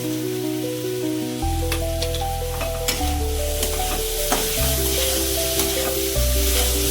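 Olive chutney with sugar stirred in a pan, with scraping spoon strokes and a steady sizzle over soft background music, close and continuous throughout.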